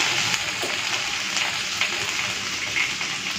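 Hilsa fish frying in a small amount of its own oil gives a steady, close sizzle with a bright hiss and scattered crackles and pops, and no one speaks.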